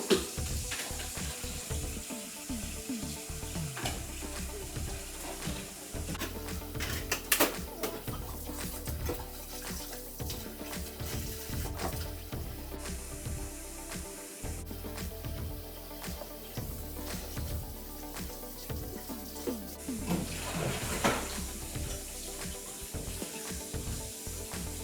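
Dishes being washed in a home kitchen after baking cupcakes, with running tap water, splashing and clinks of dishware in a steady, close clatter.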